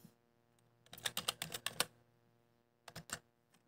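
Typing on a computer keyboard: a burst of rapid clicking key presses, then a pause and a few more keystrokes, close and moderately loud over a quiet background.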